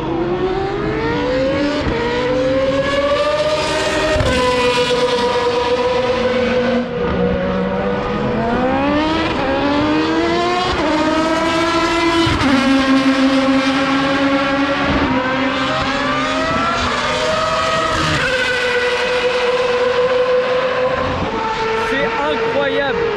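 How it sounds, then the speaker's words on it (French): Loud, high-pitched engines of historic Formula 1 cars, including V10s, scream continuously at Circuit Paul Ricard, revs climbing and dropping through gear changes as the cars roar past close by. "ce sont des anciennes F1 qui sont en train de tourner et ça fait pas du tout le même bruit"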